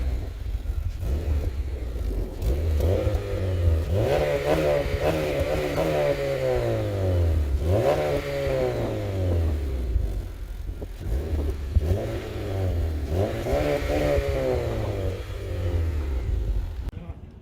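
A 2014 Honda Civic Si fitted with an Invidia Q300 exhaust revs repeatedly, its engine note climbing and falling in several loud sweeping pulls, heard close up.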